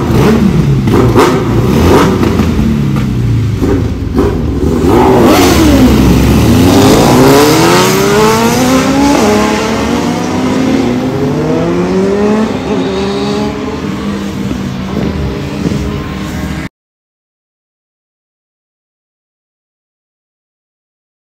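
Superbikes at a Sunday group-ride meet-up rev their engines loudly and close by, with rising and falling revs sweeping up and down for about seventeen seconds before the sound cuts to silence. Nobody speaks.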